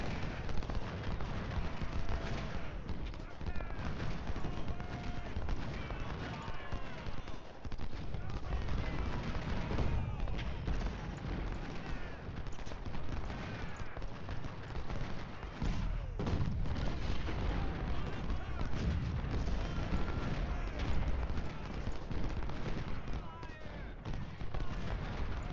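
Musket and artillery fire in the Ultimate General Civil War video game, a dense, continuous rumble of crackling volleys and booming cannon, with someone talking over the battle at times.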